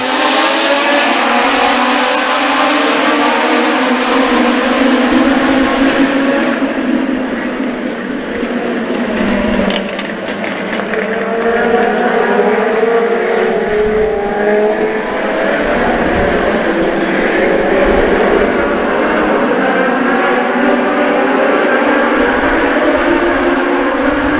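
US Legend Cars race at New Hampshire Motor Speedway, a pack of engines roaring loud and steady at full throttle, swelling and dipping as the field sweeps past.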